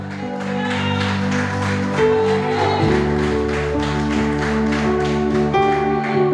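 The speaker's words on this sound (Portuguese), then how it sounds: "Aplauda o nome dEle." A church congregation claps together, steady rhythmic applause layered over sustained keyboard chords that fill the room at moderate loudness throughout.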